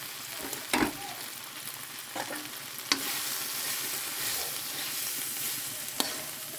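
A spatula stirs bitter gourd fry in a pan as jaggery and sorghum flour are mixed in, giving a low steady sizzle broken by a few sharp scrapes and knocks against the pan.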